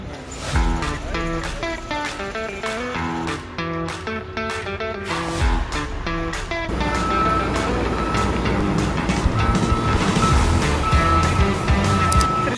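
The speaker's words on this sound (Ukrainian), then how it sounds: "І тепер тут така пробка із машин." Traffic jam with a bus struggling to maneuver while cars wait, a steady low rumble of idling engines with a loud passage, then heavier, noisier engine roar building toward the end.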